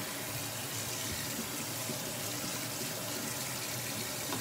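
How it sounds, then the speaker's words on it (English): Cold water runs from a kitchen tap into a sink in a steady, unbroken hiss. It sounds close and fairly even for the whole stretch, with no voices over it. "So you're gonna run cold water over it."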